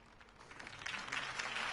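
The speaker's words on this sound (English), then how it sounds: "If only Mr. Wayne, my campaign's largest backer, could have heard that applause" Crowd applause rises after a campaign speech in the Batman Telltale video game, a dense wash of clapping that swells and grows louder over a couple of seconds.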